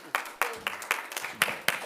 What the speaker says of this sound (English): Mr. Maharaj, a round of applause.